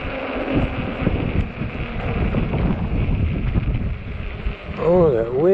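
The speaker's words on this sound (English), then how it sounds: "Oh, that wind." Wind buffets the microphone in a deep, continuous rumble during a night ride on an Ecotric 20-inch 48V fat-tire e-bike, with a brief voice near the end.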